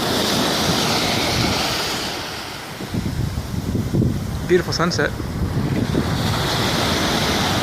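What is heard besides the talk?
ocean waves breaking with wind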